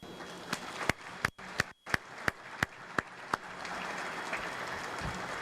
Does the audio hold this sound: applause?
yes